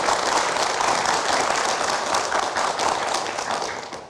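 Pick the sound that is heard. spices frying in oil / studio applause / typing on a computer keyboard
studio applause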